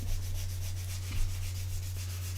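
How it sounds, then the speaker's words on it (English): Medium sanding stick rubbing on a scale model part, a continuous close scratchy rasp with steady back-and-forth strokes over a low electrical hum. "So we're using a medium sanding stick."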